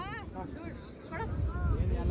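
Wind at a beach buffets the microphone in a low, rumbling roar that grows stronger in the second half, while voices talk over it.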